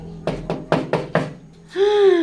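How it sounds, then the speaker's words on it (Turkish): Five sharp knocks on a door in a quick, slightly uneven rhythm, close and distinct, followed immediately by a voice speaking. "kapı çalıyor anne"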